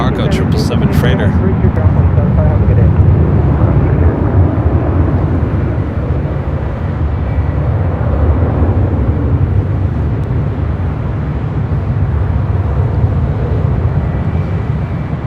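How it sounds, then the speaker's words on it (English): A Crane Air Cargo Boeing 777 freighter takes off at LAX, its loud, continuous jet roar and deep rumble filling the whole stretch with a sharp burst at the start, while a voice may speak under it. "up next is that Crane Air Cargo 777 freighter"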